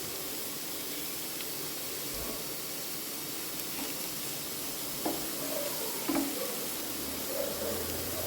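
Dried red chillies and freshly grated coconut sauté in a pan with a steady, faint, hissy sizzle. A few soft stirring scrapes sound throughout, and no one speaks.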